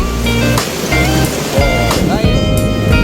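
Flood water and heavy rain on a city street during a storm, a loud continuous rushing and splashing wash with irregular surges, as someone talks over it throughout.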